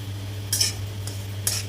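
Fine semolina roasting in ghee in a pan is stirred with a spoon, making two or three brief scraping strokes over a steady low hum.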